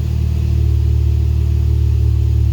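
A Toyota Tercel engine runs steadily at a low idle inside a shop, a loud close rumble with an even, pulsing throb and no voices.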